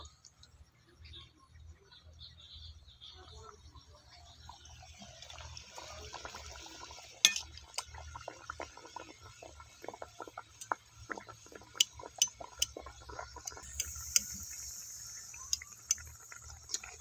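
Oil pitha, sweet Bengali fried cakes, are lowered one by one into hot oil. A steady bubbling sizzle builds, with sharp crackles and spits scattered throughout.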